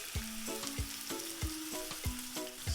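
Shrimp frying in olive oil in a preheated pan over high heat, a bright steady sizzle broken by several thumping clinks as the pan is stirred or scraped, with no voices.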